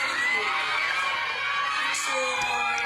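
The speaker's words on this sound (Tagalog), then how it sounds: "Daming tao, grabe yung sigawan." A dense crowd of fans screams and cheers loudly and continuously at a movie premiere night, a shrill sustained roar with voices rising and whooping throughout.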